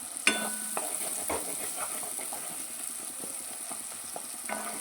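Masala and tomatoes fry in hot oil for a palak egg curry, giving a steady sizzle and hiss with occasional scrapes and clinks of a spoon stirring the pan.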